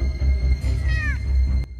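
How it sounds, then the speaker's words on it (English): A cat in the film Captain Marvel (2019) gives a single short, rising-and-falling meow over a steady low rumble. "It's a cat."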